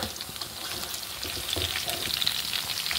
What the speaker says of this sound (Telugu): ఇంకా దొండకాయలు అయితే ఫ్రై అయిపోయినాయండి